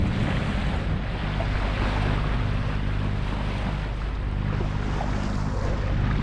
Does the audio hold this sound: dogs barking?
no